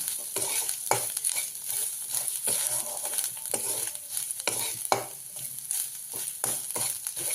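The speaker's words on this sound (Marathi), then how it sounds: "गरम मसाला याच्यामध्ये आपण ॲड करून घेऊया तो पण चांगला आपण मसाला भाजून घेऊया" Garam masala, red chili powder, salt and gram powder roasting in a pan for a coconut-milk sodyacha rassa, with steady sizzling broken by repeated scraping stir strokes close by, no voices.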